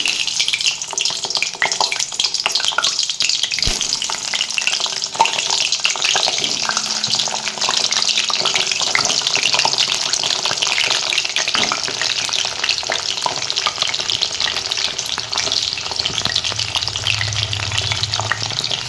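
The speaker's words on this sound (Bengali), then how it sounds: "এবার কেটে রাখা পটলগুলোকে আস্তে আস্তে কড়াইয়ে ছেড়ে দেবো" Sliced pointed gourd frying in oil in a wok, a steady loud hiss and sizzle that runs the whole time, with occasional stirring clatter and no talking.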